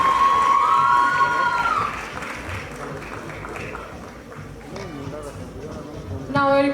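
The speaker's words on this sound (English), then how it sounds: "A huge round of applause for them" Audience at a college event applauding and cheering, a loud crowd roar with whoops that eases midway and swells again at the end.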